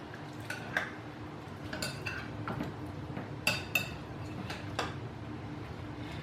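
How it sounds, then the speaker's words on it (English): A spoon folds mango chunks into ceviche in a bowl, giving soft wet scraping with sharp clinks and taps against the dish, steady and close, with no talking. "now we can put our mango in there. And fold it in."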